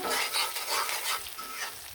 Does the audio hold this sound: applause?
no